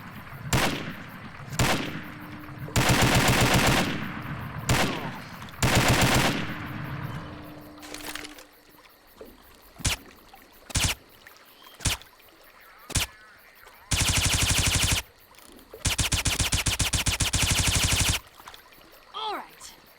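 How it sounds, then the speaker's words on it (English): Assault rifle fire in Left 4 Dead 2 with a combat sound pack, loud sustained automatic bursts alternating with single sharp shots and short pauses, close and dominant throughout. "Gonna rack some up with this assault rifle."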